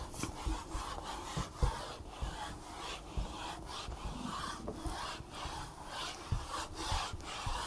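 A duster rubs back and forth across a classroom board to erase math working, giving repeated rhythmic scraping strokes, close and fairly quiet, with no speech.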